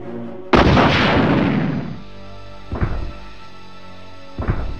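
A weapon fires in Resident Evil 1 with a loud, sharp blast that rings out and decays over about a second and a half, followed by two smaller, quieter shots spaced a couple of seconds apart.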